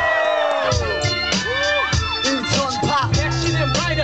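Crowd at a live hip-hop club concert shouting and whooping, many voices rising and falling loudly over sustained musical backing, with excited individual yells jumping out near the front.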